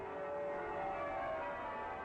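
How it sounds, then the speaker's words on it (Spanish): Gothic cathedral bells ring faintly in the distance, their tones overlapping into a sustained, humming wash of sound. "hay una cámara para tocar las campanas, con 10 de ellas"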